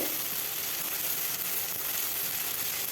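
Chopped tomato fries in a pan with a steady, even sizzle, a constant close hiss without breaks or voices.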